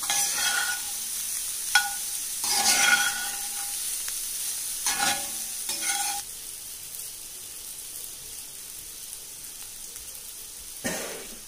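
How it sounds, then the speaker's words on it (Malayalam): Grated coconut roasting in a frying pan with curry leaves for an ash gourd curry, heard as a few bursts of scraping stirring and soft sizzling over a quiet, steady hiss. "കരിയാതെ വറുത്തെടുക്കണം,"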